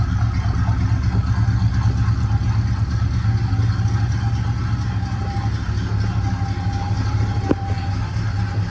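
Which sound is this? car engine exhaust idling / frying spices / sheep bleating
car engine exhaust idling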